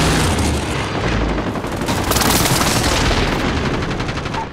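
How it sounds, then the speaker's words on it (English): Video game airstrike explosions, a continuous roll of heavy booming blasts and rumbling detonations mixed with rattling gunfire, loud and close for the full stretch. "Position marked. Airstrike. Go. Hit it."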